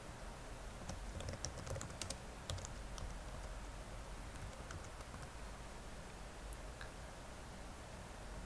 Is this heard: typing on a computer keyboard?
yes